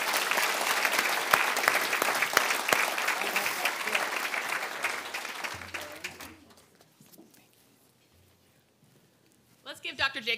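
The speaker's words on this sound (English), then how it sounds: "Let's give Dr. Jacobs another round of applause." Applause from a lecture audience after a talk on conservatism rings out loud and dense for several seconds, then thins and fades into near silence, with a brief burst of sound at the very end.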